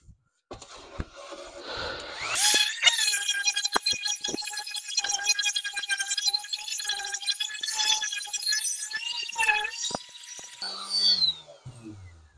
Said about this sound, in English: I'm going to sand that down.